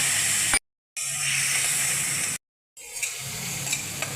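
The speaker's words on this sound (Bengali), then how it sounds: "মশলা কষানো হয়ে গেছে" Ground spice masala with a little water frying in a pan for mutton paya soup, giving a hissing sizzle with occasional stirring scrapes, twice cut off by brief total silences.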